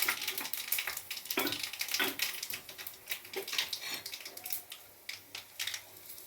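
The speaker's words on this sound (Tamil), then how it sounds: "2 காஞ்ச மிளகாய் முழுசாக போட்டிருக்கேன்." Two whole dried red chillies crackle and sizzle with mustard seeds and asafoetida in two tablespoons of hot oil in a kadai, giving close, irregular pops and spits over a soft frying hiss.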